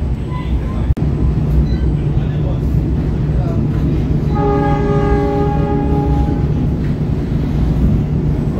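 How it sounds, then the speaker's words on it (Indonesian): The KA Papandayan passenger train runs straight through Purwakarta station with a steady, loud rolling rumble, and a long multi-tone horn sounds midway through. "KA Papandayan baru saja melintas langsung di stasiun Purwakarta"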